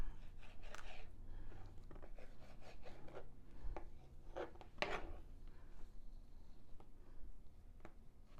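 Strips of bacon cut into thirds, heard as quiet, close scraping and slicing sounds with a few sharper knife taps against a board, irregular and faint, with no talking.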